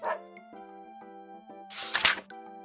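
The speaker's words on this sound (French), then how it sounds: "Dog." Cartoon dog barking in a short animated sequence, a couple of bright yelping barks over a sustained musical tone, close and clear with no speech.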